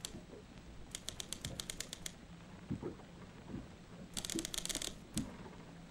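Bursts of quick typewriter key strikes in the game Trawl, two short runs of crisp clacks over a low ambient rumble, fairly faint.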